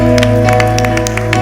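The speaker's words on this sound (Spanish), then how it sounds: "Alguien puede aplaudir por la sangre de Jesús." A church congregation claps together in quick, scattered beats over a loud, steady musical hum during a worship service, lasting only a moment.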